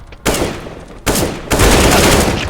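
Loud, close gunfire from a Counter-Strike retake round in a video game: rapid automatic bursts in three blocks, cutting in abruptly and building into near-continuous shooting.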